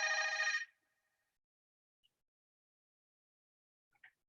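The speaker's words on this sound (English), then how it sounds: "My phone's ringing, I'm sorry." A phone ringing with a single short electronic trill burst nearby, then near silence broken only by a couple of faint clicks.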